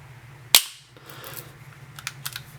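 The mechanism of a Zoraki M906 9mm blank pistol gives one sharp, loud metallic snap, followed by a few softer, fainter clicks, close up and with no talk.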